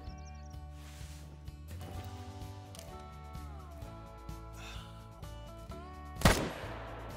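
A single M1 Garand rifle shot is fired at a bull in the Call of the Wild hunting game, one sharp loud crack near the end over quiet ambient outdoor sound.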